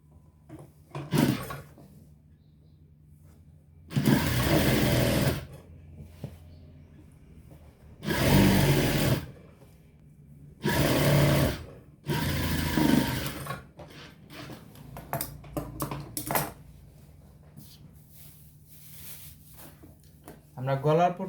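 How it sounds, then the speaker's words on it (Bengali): A sewing machine stitches a dress in several short, loud bursts separated by quiet pauses, with soft handling noises and a voice talking in between. "নিচটাকে সেলাই করে দেব।"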